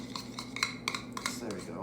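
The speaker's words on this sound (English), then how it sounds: "I'm just gonna stir it up to get it all melted" A spoon stirs inside a pot to melt chunky contents, giving a quick series of light metallic clinks and scrapes close by at low volume.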